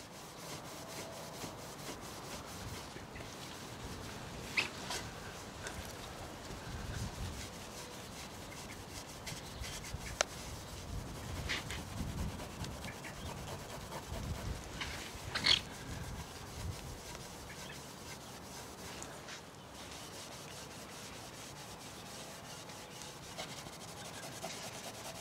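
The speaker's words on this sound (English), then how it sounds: "they were worked over with a microfibre applicator pad for a few minutes to impart a bit of shine" A microfibre applicator pad is worked by hand over the polished exhaust tips of a Nissan GT-R, giving a steady soft rubbing with occasional sharper scuffs, close up and with no voices.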